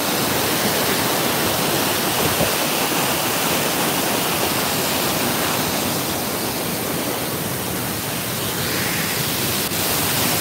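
A steady, dense roar of falling water from Mala Arbhi Falls fills the whole clip, loud and unbroken, with no voices.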